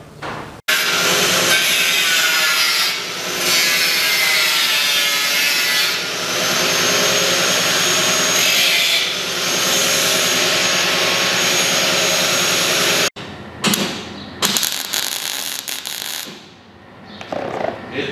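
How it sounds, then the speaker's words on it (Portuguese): Metalwork on a truck cab under repair, with a loud steady hissing, buzzing tool sound running continuously for about twelve seconds, then stopping, followed by shorter bursts and scraping near the end. "E vamos soldar."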